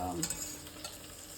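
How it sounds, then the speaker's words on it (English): Seer fish frying in hot oil while a Kerala-style tapioca and fish curry meal is cooked, giving a steady, close hiss of sizzling with a few brief crackles and no talking. "So this is the fish frying."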